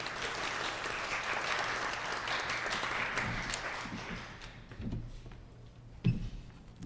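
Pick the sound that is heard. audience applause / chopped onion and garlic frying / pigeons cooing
audience applause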